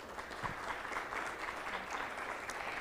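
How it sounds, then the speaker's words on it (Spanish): Audience applause at a panel event on women in cybersecurity, a quiet, steady patter of clapping from a moderately sized crowd that continues evenly for a few seconds without voices. "Un aplauso"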